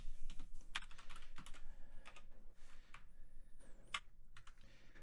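Typing on a computer keyboard while editing code, a quiet close run of irregular clicks and taps with a few sharper key strikes, no talking.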